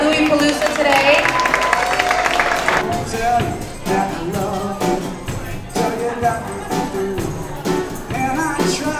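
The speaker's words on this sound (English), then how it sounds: "How about applause for all the pregnant ladies at Boobie-Palooza today?" Audience claps and cheers for pregnant women at a breastfeeding event, a burst of applause that swells and then tapers off, mixed with crowd noise and some talk.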